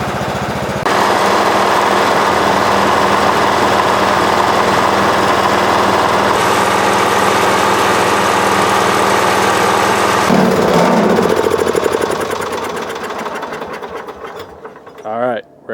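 A lawn mower engine running on Everclear liquor, giving a loud steady close drone for about ten seconds that then sputters, fades and dies out at the end.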